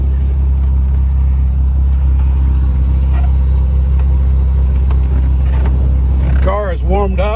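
A warmed-up 1967 Austin Healey 3000 MkIII engine idling with a steady, loud low rumble throughout, with a voice speaking briefly near the end.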